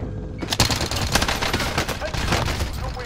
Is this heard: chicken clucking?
no